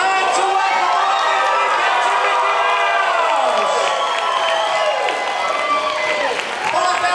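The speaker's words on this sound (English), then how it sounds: "get those hands clapping" A large crowd of guests at a Disney Cruise Line character welcome show applauds and cheers loudly and steadily, with excited shouts and whistles layered over continuous clapping throughout.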